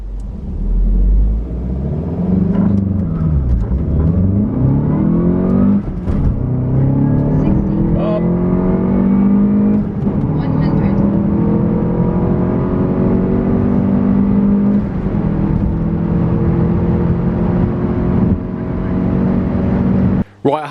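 Salvage VW Golf GTI pulling hard on a straight road test, engine note climbing through repeated rising sweeps across several gear changes, loud and close inside the cabin, with a sharp cutoff at the end.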